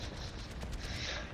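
Rapid gunfire in the video game Overwatch, a dense burst of crackling shots packed together over a brief stretch, loud and continuous.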